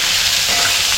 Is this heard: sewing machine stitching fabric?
no